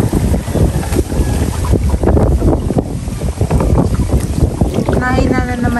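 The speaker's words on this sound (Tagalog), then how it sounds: "Napakalakas po ngayon ng hangin." Strong wind buffets the microphone with loud gusty roaring over a small boat on a river, rising and falling throughout.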